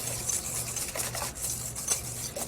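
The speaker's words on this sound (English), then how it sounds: "we want to whisk that together really well" Egg yolks and sugar being whisked in a bowl for crème brûlée, a faint, quick scraping and tapping of a whisk against the bowl that repeats in an uneven rhythm, with no voices.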